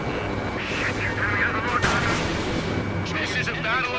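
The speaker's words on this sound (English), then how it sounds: "Strider 1, missile away." A missile launch in the Ace Combat 7 flight game, a loud rushing whoosh with a sharp burst near the middle, set against constant jet engine roar and game effects.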